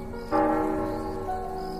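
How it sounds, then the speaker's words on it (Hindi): A single bell strikes and rings on, its tone hanging and slowly fading, with a soft hiss of background noise underneath. "तभी स्कूल की पुरानी घंटी अपने आप बजी।"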